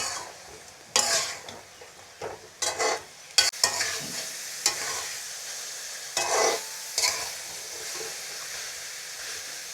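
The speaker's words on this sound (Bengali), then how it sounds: "আপনারা এইভাবে কিছুক্ষণ কষিয়ে নেবেন।" Bata fish masala is sautéed in a pan, with a steady sizzle under intermittent scraping stirs that come in short, louder bursts, close and with no voices.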